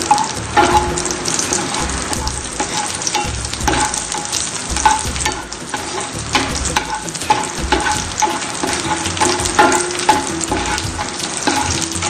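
Cashew nuts and raisins sauté in a hot pan, giving a steady sizzle broken by repeated scraping and clinking of a spoon stirring, with no voices.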